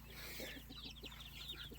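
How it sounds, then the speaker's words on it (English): Chickens, a rooster and an adult hen, give soft, quick clucks and murmurs in an old backyard chicken hutch. The calls are faint and fairly close over a steady low hum. "the rooster and the adult hen here in the old chicken hutch"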